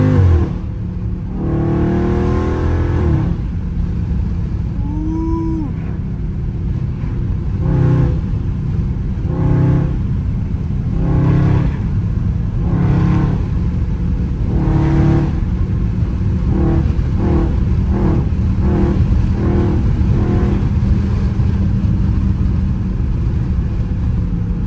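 A Dodge Charger Scat Pack's engine revs hard and loud, rising and falling through repeated throttle blips alongside a continuous deep exhaust rumble, heard up close with no talking.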